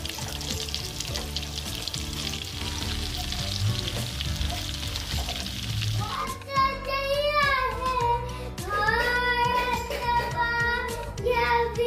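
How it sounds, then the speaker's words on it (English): An egg chop fries in hot oil with a steady, crackling sizzle for several seconds. Loud, tuneful music then swells in over the frying, which keeps going underneath. "We will fry the chop until golden brown."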